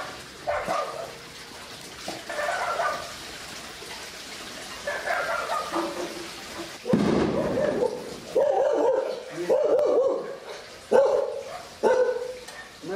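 A dog barks in a series of short, sharp bursts, several spaced barks and yips with whimpering in between, close and moderately loud against a quiet background.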